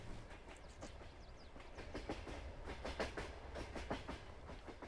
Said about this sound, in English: Oh, I hear the train.